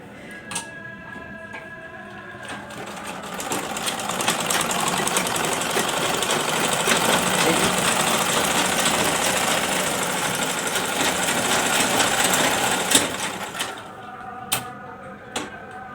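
A repaired sewing machine runs steadily for about ten seconds, a dense, even mechanical whir and clatter close by, framed by a few clicks and knocks as it starts and stops.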